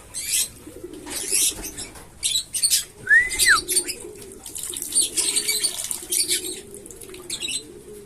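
A stray racing pigeon with a black leg ring, caught at a clothesline, makes soft cooing sounds amid bursts of rustling and wing flapping, with scattered chirps nearby.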